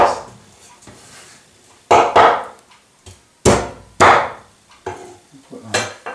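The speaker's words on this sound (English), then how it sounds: "Cut the bone out" A cleaver chops bone out of a duck in hard, sharp thwacks on a board, about six separate loud close strikes at uneven intervals with quiet gaps between.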